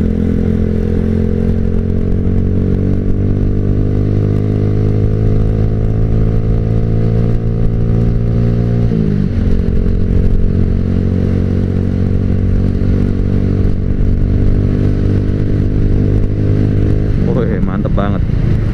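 A Yamaha Jupiter Z1 motorcycle fitted with a smaller rear sprocket hums steadily on a test ride, the engine note holding nearly constant with a brief shift midway and a rising rev near the end, fairly loud throughout.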